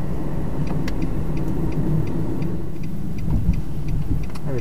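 A Nissan Micra 1.2 with a CVT automatic, shifted into manual mode, runs at raised revs, heard from inside the car as a steady, loud drone with faint ticking over it and no speech.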